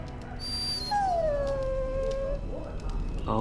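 A dog in the video game Dragon Age Origins lets out a long rising and falling howl that trails into whimpers, fairly loud and close, with faint background sounds.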